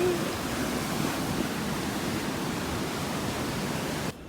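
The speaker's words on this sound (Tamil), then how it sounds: "நான் முதல் வரும்போதெல்லாம் ரொம்ப அமைதியாக இருக்கிற மாதிரி இருக்கும் கடல் ஆனால் இண்டைக்கு ரொம்ப வந்து ஆக்ரோஷமாக அடித்து கொண்டு இருக்குதால" Rough sea waves crash onto a beach in a loud, steady, broad roar that fills the whole stretch without pause, then drops off sharply near the end, with no voices.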